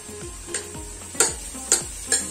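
Ginger, garlic and green chilli paste sautéing for pav bhaji under a low steady sizzle, with a spatula knocking and scraping the pan in sharp strokes about every half second, close by and without speech.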